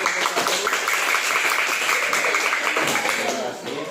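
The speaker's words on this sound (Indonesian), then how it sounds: "berikan tepuk tangan untuk kelompok 1" Classroom applause for a student group after their presentation, steady clapping mixed with voices, easing slightly at the end.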